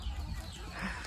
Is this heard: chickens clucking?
yes